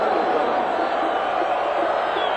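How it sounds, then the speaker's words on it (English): A large college football stadium crowd roars steadily in support of the West Virginia Mountaineers offense during a 1985 game against Virginia Tech, a broad continuous wash of cheering heard from a distance. "the crowd urging the Mountaineer offense on"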